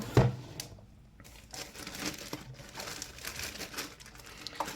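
Plastic and paper packaging of a white GTV built-in socket block being crinkled and torn open, close and continuous with a sharp rustle at the start and near the end.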